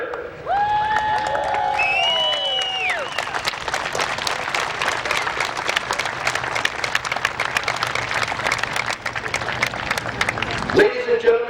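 Crowd applause at the Midvale Speedway Hall of Fame induction ceremony in 2021: a dense, steady wash of clapping and cheering that swells after a brief spoken introduction and carries on loudly for several seconds before tapering at the end.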